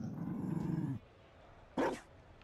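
A Mabari war dog in Dragon Age: Inquisition gives one short, sharp bark after a low rumbling sound. The bark is near and alone, and silence follows it.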